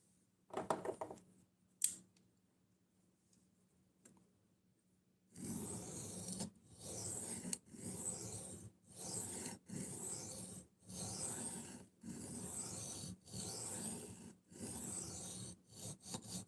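A knife blade being sharpened in a steady series of repeated rasping strokes, each about a second long and separated by short pauses, close and fairly loud, preceded by a few scattered knocks and handling noises with no one talking.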